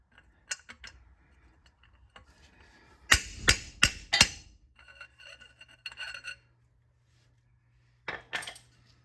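Sharp metallic strikes from hammering on a Toyota 4Runner part while chasing a low speed vibration, with a quick burst of four loud ringing blows amid scattered lighter taps and clinks, close to the ear.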